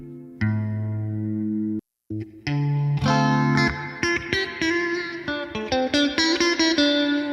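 An electric guitar played through a Line 6 Helix Stadium XL with distortion in front and reverb and delay after it, starting with held chords, then a brief gap, then quicker ringing notes with trailing echoes, loud and close.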